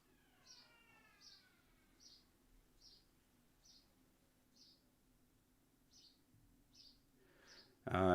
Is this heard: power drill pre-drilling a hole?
no